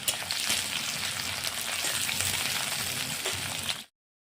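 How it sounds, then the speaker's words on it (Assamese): Chopped onion and green chillies sizzle in hot mustard oil in a wok, a dense, loud, continuous frying hiss close up that cuts off abruptly. "পিঁয়াজ আৰু জলকীয়াখিনি অলপ ভাজি ল'ম।"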